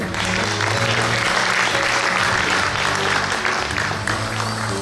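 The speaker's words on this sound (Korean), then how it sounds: "박수 부탁드립니다." An audience at a Korean traditional music association's chair inauguration ceremony applauds loudly and steadily, a dense clapping that fills the whole stretch without pause.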